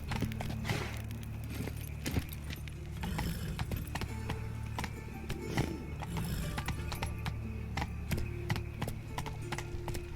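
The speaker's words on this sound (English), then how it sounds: "Run, Roach." Horse hooves galloping in The Witcher 3, a steady rhythmic clip-clop that runs the whole time over continuous in-game music and mechanical clatter.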